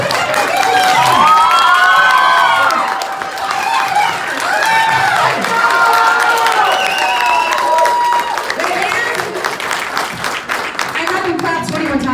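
Audience at a Twenty One Pilots town hall clapping and cheering together, loud crowd noise with shouts and claps running throughout, voices rising over the applause.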